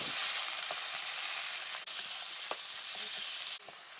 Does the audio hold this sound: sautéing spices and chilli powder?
yes